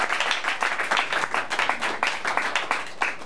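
A church congregation claps hands for Jesus in a quick, uneven rhythm of many overlapping claps, steady and fairly loud throughout with no voices over it.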